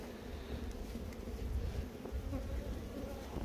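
Bees buzzing steadily inside an opened giant beehive in an apiary, a dense low hum filling the whole moment, close and constant.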